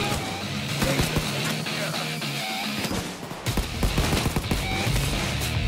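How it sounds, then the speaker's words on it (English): Rapid gunfire rattles in the heist shooter Payday 2, with loud close bursts and scattered shots over a busy game backdrop of clanks and chatter. "Who's shooting me behind?"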